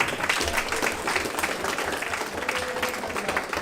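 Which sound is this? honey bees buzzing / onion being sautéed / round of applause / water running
round of applause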